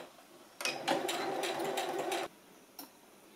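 A sewing machine stitches a short bias seam on a dress to hold a facing strip, a close, steady mechanical whirr of rapid needle strokes lasting under two seconds, followed by a brief click.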